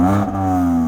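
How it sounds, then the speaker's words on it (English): A BMW M3 engine revs with its valved exhaust closed in the quietest mode, giving a close, steady harmonic drone with a brief dip as the revs shift, heard alone without talk. "Zach, give it some revs."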